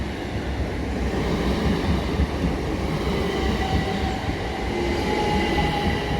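A Class 377 electric passenger train runs through a station with a steady rumble and rolling wheel noise at moderate loudness, and a faint squeal rises briefly near the end.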